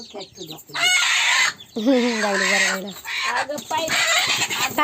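Village chickens and chicks cluck and squawk up close in a loud, harmonic run of calls, with a long, drawn-out cry in the middle and shorter clucks before and after.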